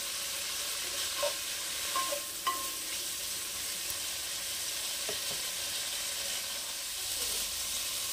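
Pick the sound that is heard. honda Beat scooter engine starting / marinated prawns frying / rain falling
marinated prawns frying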